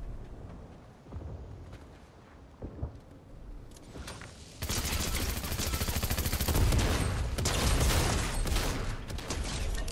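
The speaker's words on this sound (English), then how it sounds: "You are still shooting." Gunfire in the game Fortnite, scattered shots at first, then a dense sustained burst of rapid automatic fire that stays loud through the second half.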